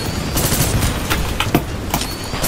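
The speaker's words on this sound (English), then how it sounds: "Oh my god, so many explosions!" Dense, loud gunfire and explosions crackle without pause in Titanfall 2 multiplayer combat, with sharp bursts stacked over a constant rumbling wash.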